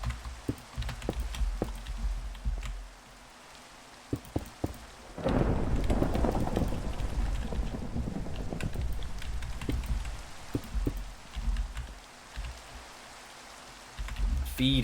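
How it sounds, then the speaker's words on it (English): Rain pours steadily in the video game Minecraft, with a rolling thunder rumble swelling in the middle and scattered sharp game clicks, while a voice speaks intermittently. "Can it stop raining here?"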